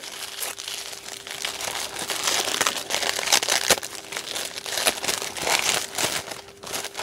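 Crinkly decorative paper printed with bunnies and eggs is crumpled and torn while a gift is unwrapped, giving continuous close rustling and crackling with frequent sharper crunches throughout.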